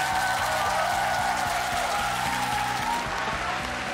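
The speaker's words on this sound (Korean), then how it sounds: "다시 한 번 더 큰 박수 부탁드리겠습니다" A studio audience on a Korean TV singing show applauds in a broad, sustained wash of clapping, layered over a steady rhythmic musical pulse.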